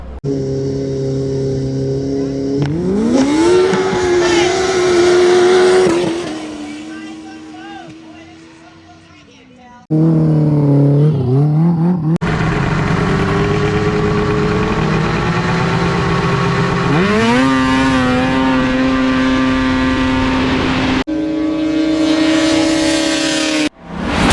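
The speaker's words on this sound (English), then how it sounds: "It's actually a Thundercat 900 that they put a 1000 top end, I believe, on." A Thundercat 900 snowmobile fitted with a 1000 top end and heavy nitrous revs loudly in a race setting, its engine pitch rising and holding in long sustained pulls, cutting out briefly and then screaming back up, with people talking underneath.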